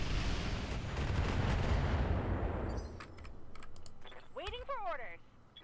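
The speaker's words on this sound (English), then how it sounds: "Alright, firing on a turret." Weapons fire at a turret during a mech battle in the video game Roguetech. A dense, loud barrage roars for about three seconds, then gives way to scattered sharp clicks and a few rising and falling electronic tones.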